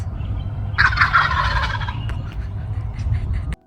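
Wild turkeys in a New England cemetery let out a burst of loud, rattling gobbles, several overlapping calls close by, fading into quieter outdoor background.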